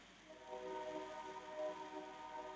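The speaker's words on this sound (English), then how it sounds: "the train drives me crazy right now" A loud train passes close outside, a steady rumbling roar with hissing, whistle-like tones sustained throughout, no talking over it.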